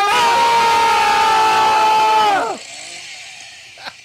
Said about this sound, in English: I'm starting up my chainsaw